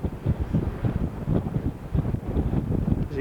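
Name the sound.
wind blowing hard at the top of a tower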